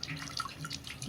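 Water running and splashing as soil is washed off wild forest tubers, a steady near gush with small drips and splashes, no voices.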